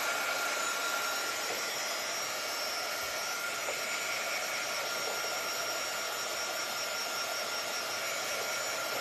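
A hair dryer blows steadily on a DIY wooden bumble bee craft kit, a constant loud airy whoosh with no pauses or voices.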